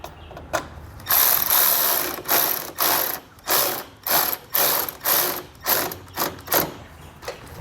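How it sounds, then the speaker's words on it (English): A ratchet tightens a 10mm bolt on a Roadmaster Direct-Connect base plate for a 2016 Mazda, giving close, loud bursts of clicking in about ten evenly spaced strokes with short pauses between them and no talk. "I'll come back with a 10mm and snug it down."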